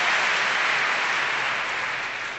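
Audience applause at a 1972 stage evening with Groucho Marx, a dense steady clatter of many hands filling the room and tapering slightly toward the end, with no voices over it.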